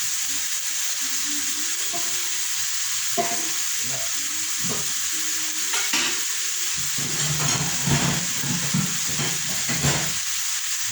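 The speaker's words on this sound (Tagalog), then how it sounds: "Sangkutsahin ko muna yung panyero bago ko lagyan ng toyo." Chicken sears and sizzles in a hot pan for adobo, a steady frying hiss with occasional scrapes and stirring knocks of a utensil against the pan, close up, no talk.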